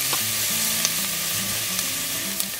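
Onions sizzle and fry in a pan for a Goan meat stew, a steady close crackle with faint stirring clinks now and then.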